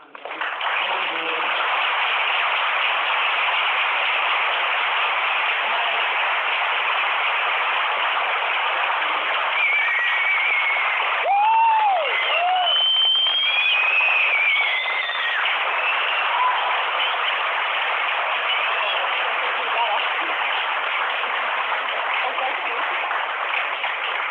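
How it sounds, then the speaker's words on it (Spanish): Sustained applause from an audience at a Gatercon convention panel fills the room as a steady, dense wash that lasts throughout, with a few voices briefly rising above it midway. "Un aplauso para Carlos"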